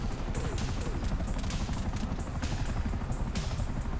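A helicopter in Grand Theft Auto V drones steadily with a dense low rotor rumble and faint higher chopping pulses, filling the scene without voices.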